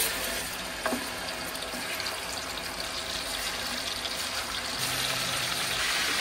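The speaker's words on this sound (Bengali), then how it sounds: "তেলটা গরম হয়ে গেছে, এখন আমি চিকেনটা ছেড়ে দিচ্ছি।" Broiler chicken pieces drop into hot oil that has been heated for a roast and fry with a continuous loud hiss and sizzle, steady throughout with a faint pop near the start.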